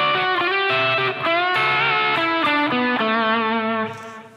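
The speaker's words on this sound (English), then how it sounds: "double stop bend played like this" An electric guitar on a tremolo-equipped Strat plays double-stop bends in a lead line from a song, its distorted, sustained notes bending upward and shifting pitch before fading out at the end, alone and without talk.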